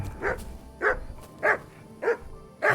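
Dog barking in the video game Kingdom Come: Deliverance 2, five evenly spaced, moderately loud woofs with short gaps between them.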